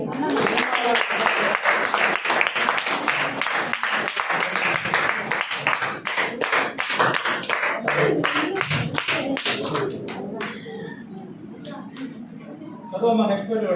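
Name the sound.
applause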